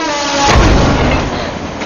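A train rumbles past loudly and close, a heavy continuous roar with a horn-like tone at the start, no voices.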